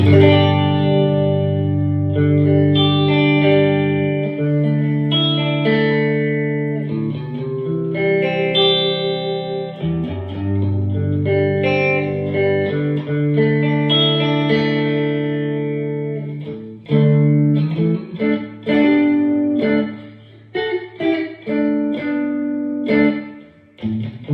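Clean electric guitar through a Matchless-style clean amp model on a Spark 2 practice amp, playing melodic chords and single notes with a touch of delay and reverb, no voices.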